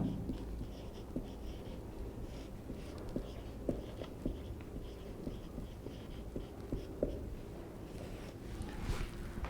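Chalk or marker scratches and taps on a board during a maths lesson, a faint sequence of irregular short strokes and clicks over a quiet room hum.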